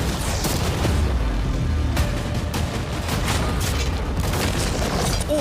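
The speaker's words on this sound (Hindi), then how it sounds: "अब हम तुम्हारी नई यॉट पर कैनन्स को शूट करने वाले हैं।" Cannons fire at a new yacht stacked with storage containers, giving dense, continuous booming and crashing impacts that stay loud throughout with no clear gaps.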